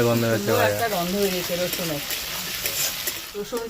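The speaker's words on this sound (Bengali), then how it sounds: "এবার এটাকে ভালো করে ভেজে নেবে" Garlic sizzles and crackles in hot oil as it is stirred in a pan, with a voice talking over the cooking noise.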